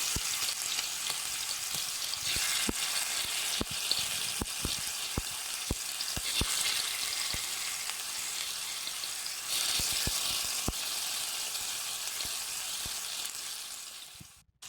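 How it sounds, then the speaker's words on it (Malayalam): Masala-marinated prawns with raw green peppercorns fry in hot coconut oil, making a loud, continuous close sizzle with scattered sharp pops and crackles, with no voices. "വെളിച്ചെണ്ണ നന്നായി ചൂടായി വരുമ്പോൾ അതിലേക്ക് നമ്മൾ മസാല പിടിപ്പിച്ച് വെച്ചിരിക്കുന്ന ചെമ്മീൻ ഓരോന്നായിട്ട് ഫ്രൈ ചെയ്തെടുക്കാം"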